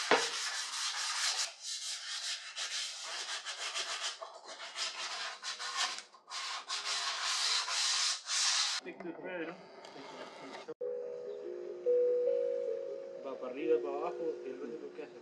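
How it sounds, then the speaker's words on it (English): Brisk back-and-forth hand sanding with 600-grit sandpaper, close and steady for several seconds, then it stops and a person starts talking. "I'm going to go and start sanding it with 600 grit."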